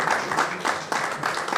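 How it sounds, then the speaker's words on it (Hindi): Applause rings out at a welcoming ceremony of an Indian community service organization, with bursts of clapping from an audience, moderately loud and continuous. "और तालियां देखिए बजती रहनी चाहिए।"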